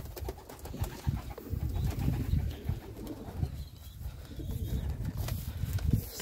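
Yellow Czech show pigeons cooing in a new loft, soft low repeated coos layered over a busy flock murmur, close and continuous.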